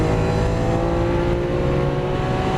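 A Lamborghini Aventador LP-700 4 engine pulls hard after an upshift on a drive in Las Vegas, a loud, continuous droning roar heard from close by with no talk.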